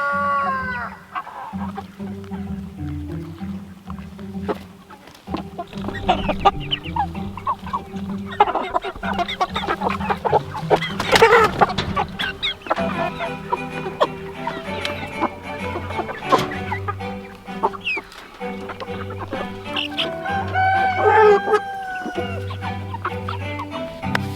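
A flock of chickens in a mobile chicken tractor clucks continuously close by, with overlapping calls, occasional louder squawks and a distant rooster crow in the mix.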